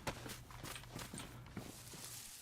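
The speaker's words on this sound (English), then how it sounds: "I heard footsteps." Footsteps in the video game DayZ crunch along at a steady walking pace, a series of soft, fairly close thuds over a low continuous background hum.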